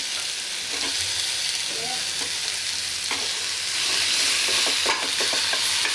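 Tomato, garlic and onion sauté in a pan for a gobi matar sabzi, a steady sizzle under repeated spatula scrapes that cluster toward the end, near and moderately loud, without speech.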